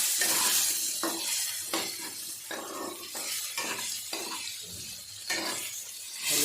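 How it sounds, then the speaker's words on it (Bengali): Potato pieces fried with salt in a pan, stirred in repeated scraping bursts with a faint sizzle between strokes, close and moderately quiet, with no voices. "হালকা নাড়াচাড়া করে আলুগুলো একটু ভেজে নেব"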